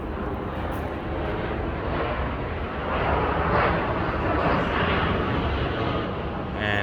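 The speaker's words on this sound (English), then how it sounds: "it is constantly airplanes coming over because the pro and con is SJC airport is 10 minutes away" Steady broadband roar of airplanes passing overhead near SJC airport, swelling slightly in the middle and heard from a residential condo area in San Jose, continuous throughout with no talk.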